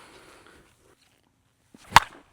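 Pure Boombah 14-inch USSSA slowpitch softball bat striking a ball outdoors, a single sharp, loud crack near the end after a quiet stretch, standing alone.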